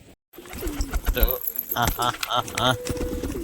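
Pet pigeons cooing in short throaty bursts while they feed close by, along with light rustling and clinking sounds. A person talks at the same time.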